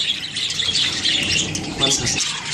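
A budgerigar caught by hand in a budgie colony lets out shrill, rapid squawks and squeals, close and continuous, with faint voices in the background.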